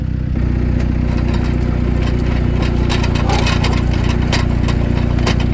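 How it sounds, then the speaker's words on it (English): A powered auger drills into clay ground for a rolling gate post, a loud steady engine drone with grinding and scraping crackles throughout, close by. "that's where this auger is breaking the shear bolts"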